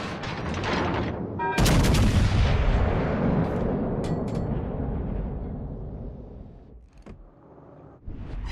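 Battleship guns in a naval combat game fire with a huge booming salvo that rolls and decays for several seconds, followed by a few sharper distant shots and rumbling.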